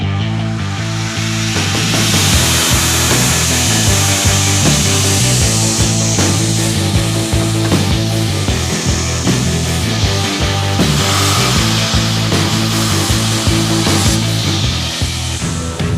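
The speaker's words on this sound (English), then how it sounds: "I need to grind these tapers and this taper," Grinding the tapers on a steel knife blank, a loud steady abrasive hiss and rasp from a power grinder that runs continuously with a constant motor hum and no speech.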